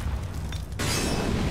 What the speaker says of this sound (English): Fire in the hole! Throwing a grenade!